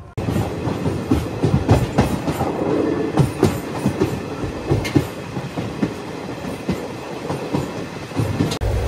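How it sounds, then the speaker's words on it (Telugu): Narasapur–Nagarsol superfast express train running at cruising speed, heard from inside: steady rumble with rhythmic clickety-clack of wheels over rail joints, continuous and fairly loud, no talk. "ప్రస్తుతం మన ట్రైన్ క్రూజింగ్ స్పీడ్ అయితే ఎలా ఉంది."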